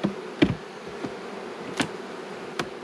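Honey bees buzz around hive frames near the comb in a steady low hum, with several sharp close passes and taps, and no voices.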